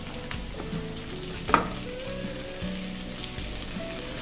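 Green chilli pieces sizzle in a hot pan of onions for sweet corn pulao, a steady close frying hiss with a sharp crackle burst as they drop in, plus light stirring scrapes.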